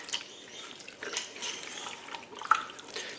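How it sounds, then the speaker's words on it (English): Water poured into chilli in a slow cooker with tomatoes, a faint soft trickle and splash of liquid with a few gentle drips, quiet and close, with no talking. "We need to put in a little bit of water as well."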